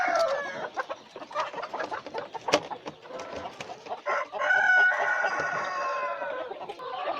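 Several chickens cluck busily nearby while a rooster crows, overlapping calls forming a noisy, continuous poultry-house chorus during Newcastle disease vaccination.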